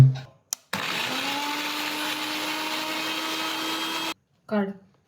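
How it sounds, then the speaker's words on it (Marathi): A kitchen mixer grinder blending ginger-garlic paste runs as a steady, loud motor whine for about three and a half seconds, starting and stopping abruptly, with brief speech just before and after. "मिक्सरला लाव"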